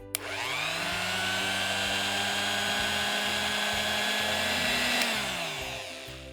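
A wet grinder grinding soaked moong into batter, a steady, loud motorized grinding whir continuing with a high whine, its pitch sagging slightly as the load shifts, no voices over it.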